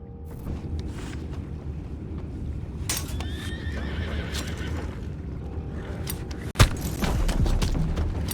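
Horses in Red Dead Redemption 2 whinny and neigh near and clearly, with a rising-then-falling call in the middle, over the scuffing clip-clop of hooves, a steady outdoor backdrop and one sharp thump near the end.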